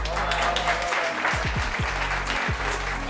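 Applause rises from an audience at a celebration honoring a doctor, clapping hands spread over a low humming background with a few bass thumps underneath.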